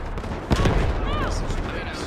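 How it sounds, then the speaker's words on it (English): An artillery barrage in a video game, heard as a heavy blast followed by continuous rumbling and crackling under faint voices and tonal sounds. "Roger that. Artillery barrage incoming."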